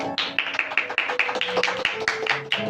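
Applause from a studio audience welcoming Ustad Younas Iqbal Khan onto an interview show: a short, close burst of rhythmic hand claps at a steady pace, with light background noise.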